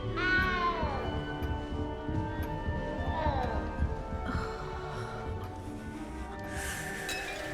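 A cat meows repeatedly in Hogwarts Legacy, a few drawn-out, rising and falling cries near and clear over a soft game ambience, with faint clinks in the background.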